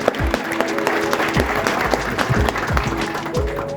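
A short burst of applause from a crowd at a product event in Rajkot, steady rhythmic clapping throughout at moderate loudness.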